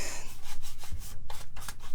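Rhythmic rubbing strokes of a sanding sponge against a surface, about five close scratchy passes in two seconds, each a brief rasping burst over a low background hum.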